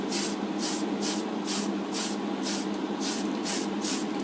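Short hissing bursts of spray paint lay light coats on a Millennium Falcon model, about eight pulses in an even rhythm over a continuous airy background, close and moderately loud.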